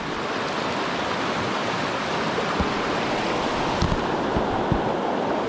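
A swift mountain stream flowing at a backcountry trail crossing after heavy rain, a close, steady roar of rushing water with a few soft splashes and thumps as someone wades through.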